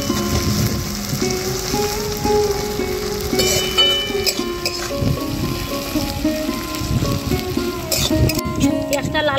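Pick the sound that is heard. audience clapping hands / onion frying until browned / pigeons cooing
onion frying until browned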